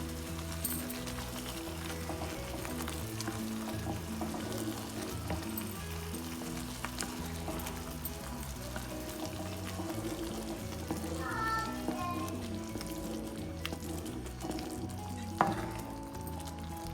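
Semolina (rava) for upma is added little by little and stirred in a pan over low flame, giving a steady sizzle with scraping stir sounds throughout, close and continuous, with faint background noise.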